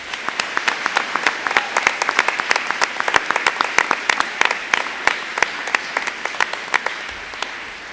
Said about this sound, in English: Again, please give them a round of applause.